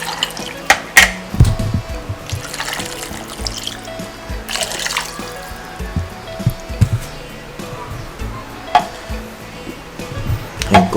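Water runs from a kitchen tap in a continuous trickle, mixed with clinks of dishes and light handling noises.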